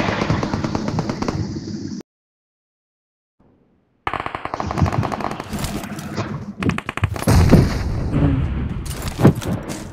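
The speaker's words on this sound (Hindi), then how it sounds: "तो फायरिंग साउंड मुझे भी आ रहा था" Rapid automatic gunfire in the mobile battle royale game BGMI, loud bursts that cut out into silence for two seconds, then resume as dense rattling volleys and clicks to the end.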